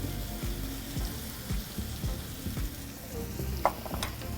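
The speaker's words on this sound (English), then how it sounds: "I'm going to add all of the apple into the caramel and our little spice" Apple pieces cook in caramel with a little spice, giving a steady close sizzle and frying hiss with repeated stirring scrapes and soft bubbling throughout.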